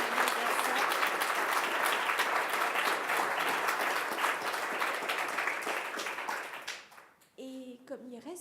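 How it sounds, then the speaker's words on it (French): Sustained audience applause fills a conference hall, dense and steady for several seconds, then thins and fades as a single voice begins speaking near the end. "Je propose qu'on applaudisse."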